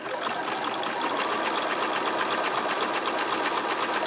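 A sewing machine stitches a bag made from jelly roll fabric strips, running as a continuous fast even whir and rapid needle chatter close to the microphone.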